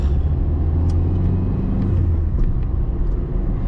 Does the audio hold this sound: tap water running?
no